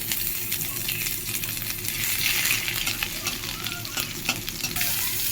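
Panch phoron, dried red chilli, bay leaf and chopped ginger frying in a pan for masoor dal give a loud, steady, close sizzle and crackle, with light stirring scrapes throughout and no talking.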